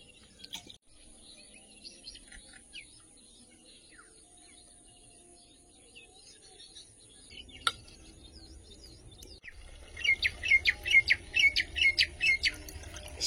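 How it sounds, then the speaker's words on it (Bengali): Myna birds call on a quiet morning in an outdoor setting with other birdsong, their chirps and squawks scattered and fairly faint at first before a burst of loud, rapid repeated calls near the end. "শালিক পাখিগুলো কি সুন্দর ডাকছে দেখো সকালে।"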